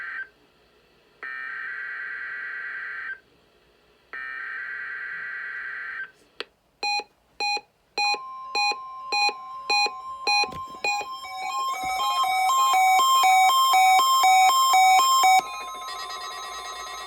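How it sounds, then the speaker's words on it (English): Alert tones from a NOAA weather radio during an Emergency Alert System test: two long, steady electronic tones, then a run of short beeps and a loud, sustained multi-pitched alarm. "Signals and alarm tones were tested in the NOAA All Hazards Radio Public Warning Alarm System"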